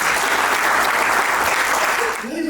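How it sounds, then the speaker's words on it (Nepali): A church congregation at a worship school gathering gives a big round of applause. The clapping is loud, close and continuous, then tapers slightly at the end. "त्यसले गर्दा हामी ठुलो ताली लगाउँछौँ।"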